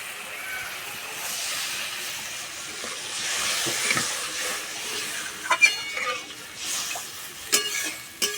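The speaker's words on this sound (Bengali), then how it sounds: "মশলা থেকে তেল ছেড়ে গেছে, এবার জল দিয়ে দেবো।" Water poured into a pan of sizzling spices for an okra and egg curry, a soft steady hiss with a few sharper spits and pops toward the end.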